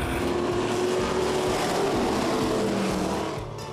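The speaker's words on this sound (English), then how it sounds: "start your engines if you would" Race car engines rumble and rev on race night at a track, a loud, continuous roar of several engines holding steady before easing off toward the end.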